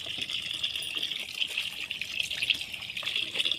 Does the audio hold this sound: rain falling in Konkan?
no